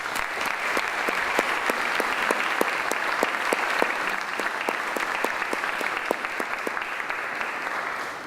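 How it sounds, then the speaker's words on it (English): An audience at an alumni awards ceremony applauds in a sustained, even round of many hands clapping, steady and fairly loud throughout without voices on top. "Please join me in a round of applause for David Beaumont Ii."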